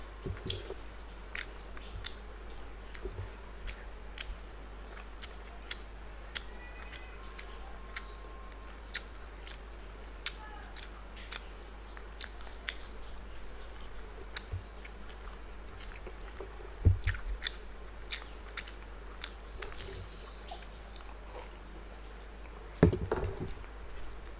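Someone chews Bengali syrup sweets such as rasgulla during a sweets eating challenge. Close, wet chewing and soft squishing go on steadily with scattered small clicks, plus a couple of louder knocks, and there is no talk.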